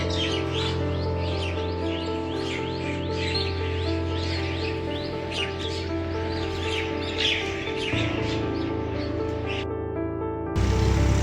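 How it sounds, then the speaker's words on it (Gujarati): Mynas call in repeated bright chirps and chattering notes over a steady low mechanical hum, continuous and fairly close, without a break. "કાકા કાબરો જ આવી છે"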